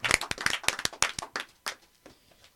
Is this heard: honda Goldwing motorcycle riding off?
no